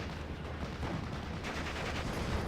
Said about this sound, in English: This must be a mortar. It is a mortar.